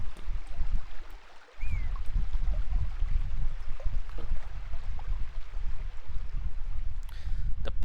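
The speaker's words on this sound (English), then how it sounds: "there's some nice river sound right there." Steady rushing river ambience from the Shamutanti Hills in the Sorcery! game, a continuous broadband water wash heard alone at moderate level, with a brief dip partway through.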